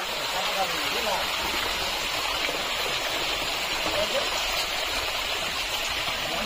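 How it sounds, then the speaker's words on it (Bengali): A jungle waterfall and its rocky stream in Lama, Bandarban, fill the air with a dense, unbroken rushing roar that holds steady and close from start to finish. "অবশেষে আমরা মূল ঝর্ণায় চলে এসেছি।"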